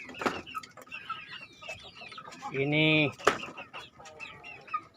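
Chickens on an Indonesian poultry farm, kept in a row of coops, clucking and calling with one loud drawn-out squawk, mixed with nearby farm noise while someone talks.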